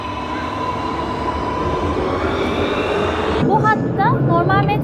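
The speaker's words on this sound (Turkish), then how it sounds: "Mesela şu an bir tren vardı." A train rumbles steadily past at close range at Aranjuez station in Spain, then its wheels squeal in rising, wavering tones as it brakes at the platform.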